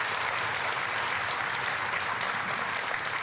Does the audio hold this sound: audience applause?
yes